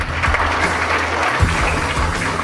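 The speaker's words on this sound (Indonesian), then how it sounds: "tepuk tangan buat TNI Polri" An audience at a ceremony held by the Bojonegoro military district command applauds the military and police. The clapping is steady and loud throughout, with a faint low hum underneath.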